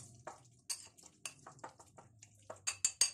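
A spoon clinks and scrapes against a bowl while chicken is mixed with soy sauce and white vinegar, a string of light, close metallic taps in an uneven rhythm, growing sharper toward the end.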